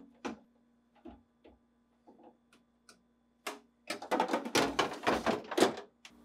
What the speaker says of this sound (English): To install, insert the drawer beneath the cover.